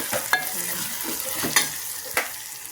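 Green chillies frying in a pan give a steady low sizzle, broken by three sharp scraping stirs that stand out close and clear.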